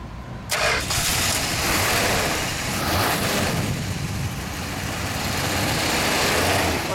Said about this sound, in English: Let's start her up for a moment. Let's hear what she sounds like.